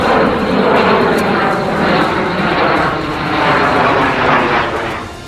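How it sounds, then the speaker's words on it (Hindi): Rafale and Sukhoi fighter jets fly past with a loud, continuous engine roar that swells and eases slightly over several seconds, filling the whole sound with broadband rushing noise. "अपने टेलीविजन स्क्रीन पर आप सुखोई और राफेल दोनों लड़ाकू विमान को आप देख रहे हैं।"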